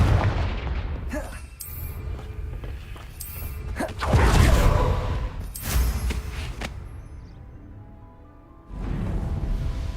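Confringo fire spell in Hogwarts Legacy: several sharp booming blasts burst out in quick succession, each with a whooshing tail, between stretches of game ambience and a brief spoken line.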